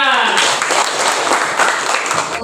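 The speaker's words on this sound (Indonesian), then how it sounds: "tepuk tangan buat Danaya" A classroom full of elementary students applauds for a classmate at a religious studies lesson, a steady wash of dense clapping lasting throughout at close range, with chatter from the room blended in.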